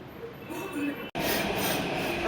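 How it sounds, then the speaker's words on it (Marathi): A metro train at a platform rumbles and hisses at close range with a broad steady roar, briefly cut off before resuming. "हे नागोला साईडला जाणारे मेट्रो"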